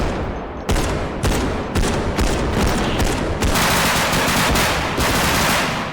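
Relentless gunfire in the BODYCAM video game: loud, close bursts of automatic fire with sharp repeated cracks merging into a continuous dense roar for several seconds, no talking.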